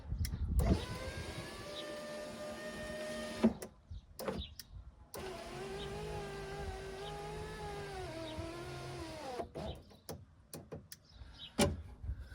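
A rear power window on a Jeep Grand Cherokee WJ runs up and down in two long passes, its electric motor whining steadily and slightly unevenly, separated by clunks and thuds as the glass stops, close by and otherwise quiet.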